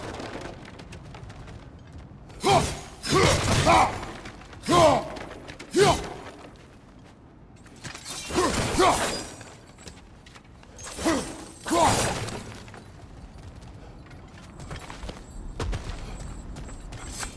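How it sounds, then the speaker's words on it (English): Objects get smashed in God of War Ragnarök, with a run of separate loud cracking and crashing impacts, each a short burst, spread out across quiet stretches. "back to smashing some things for fun and profit"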